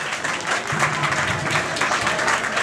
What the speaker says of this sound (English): Round of applause, well done.